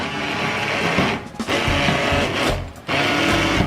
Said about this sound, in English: You wanna submerge your little blender end, turn it on and go up, down, up, down.